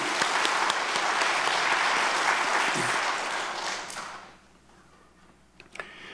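A church congregation gives the choir loud, sustained applause that swells, holds for about four seconds and then fades to scattered claps and quiet.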